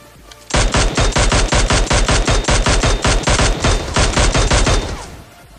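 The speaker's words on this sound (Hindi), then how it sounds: "उनको मैं mini 14 and guys short gun से कैसे मारने वाला हूँ देखो यार आप लोग" Rapid, evenly spaced gunfire from a Mini 14 rifle and shotgun in PUBG Mobile: roughly twenty sharp, loud, close shots over about four and a half seconds, with a brief pause near the end before it stops. No talking.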